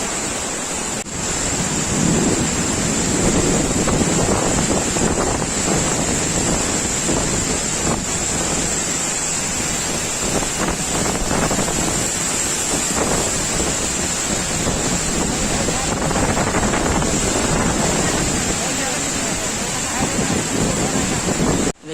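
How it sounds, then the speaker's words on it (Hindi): Khandadhar waterfall crashes down with great force, a loud, steady broadband roar that stays constant throughout, with wind buffeting the microphone. "पानी का स्पीड बहुत ही जोर है।"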